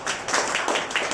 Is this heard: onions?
no